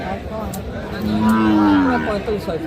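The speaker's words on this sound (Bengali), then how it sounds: "একটা শাহিওয়াল জাতের বকনা বাছুর" A six-month-old Sahiwal heifer calf at a cattle market lets out one long, loud, close moo that swells in the middle, with faint crowd chatter underneath.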